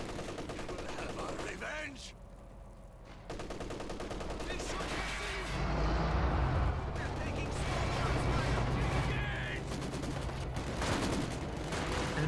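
Soviet Maxim machine gun fire in the strategy video game Company of Heroes 2, dense sustained bursts mixed with other gunfire and explosions in a loud battle, with commentary talk running over it.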